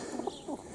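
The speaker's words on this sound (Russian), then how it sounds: "Вот, например, белый голубь." A white pigeon cooing close by, two soft, low throaty coos in quick succession, brief and fairly quiet.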